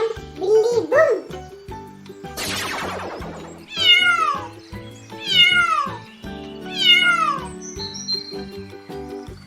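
A cartoon cat in a Hindi animated story lets out a string of loud, drawn-out meows, about four distinct wavering calls in a row, heard close and clear against a light musical background.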